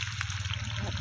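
Onion frying in a pan with cloves and cardamom for dhaniya chicken, a soft, continuous sizzle over a low hum.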